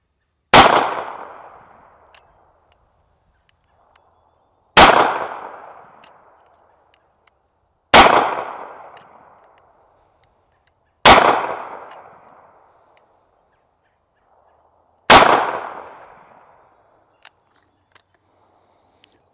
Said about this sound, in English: I'll shoot 5 shots at the middle of that A zone